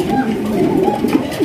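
Large pigeons on a big Bangladeshi pigeon farm coo in low, rolling murmurs throughout, several birds overlapping at close range with steady background noise and some voices nearby.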